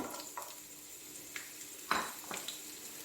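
Carrots being stirred and fried in a pot for Kabuli Afghani beef pulao: soft, steady frying with a few faint spoon clinks and scrapes against the metal, quiet and close.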